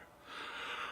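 A voice imitates the wheezing breath of the vampire Nosferatu, a single raspy, airy inhale-like gasp lasting about a second, close and fairly quiet.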